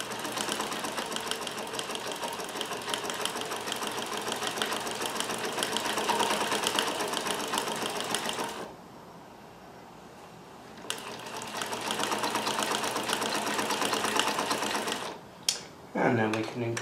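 A Necchi Supernova Ultra Freearm sewing machine stitches zigzag in a fast, steady mechanical whir, pausing briefly partway before resuming, close and clear.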